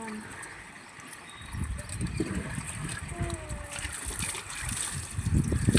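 Water is poured and splashes during a household ritual, a continuous sloshing wash that slowly grows louder over several seconds, with faint background voices.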